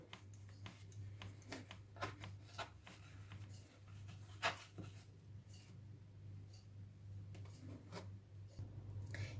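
A knife cuts through cezerye, a sticky Turkish carrot confection, into rectangular pieces: faint, scratchy scraping strokes come at irregular intervals over a steady low hum, with no talking.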